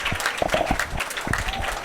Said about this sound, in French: On applaudit très fort pour notre amie.